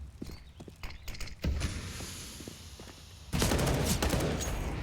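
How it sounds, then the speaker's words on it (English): Rapid bursts of gunfire in a Counter-Strike match on the Inferno map, crackling in quick clusters over game ambience, with a louder sustained burst of shots near the end. "Shots through the smoke, nothing gonna land."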